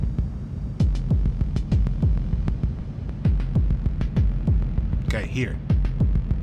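Heartbeat-like throbbing techno pulse from a modular synthesizer in an industrial hardcore patch, with steady repeating low thumps and a brief burst of higher noise near the end, and a voice speaking briefly over it.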